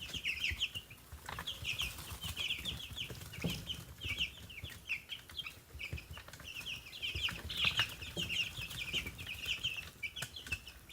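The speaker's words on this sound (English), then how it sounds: "Chickens are so weird." Chickens cluck and chatter continuously near and far in a coop setting, with repeated overlapping calls, soft rustling and occasional scratching beneath them, steady throughout without any talking.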